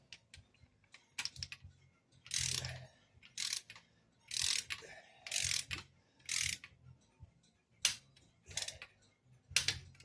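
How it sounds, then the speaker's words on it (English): A torque wrench tightens the bolts on Jesel shaft-mounted rocker arms fitted to Brodix cylinder heads. It gives repeated ratcheting clicks in short bursts separated by pauses. The sound is close and clear, with no talking. "It said 32, so we're going to torque those"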